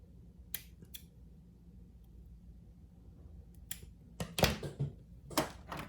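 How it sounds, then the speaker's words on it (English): Sharp scissor snips trimming thread ends on a handmade leather watch strap, a few crisp cuts spread over a quiet stretch, with a cluster of louder snips near the end. "Just snip the ends."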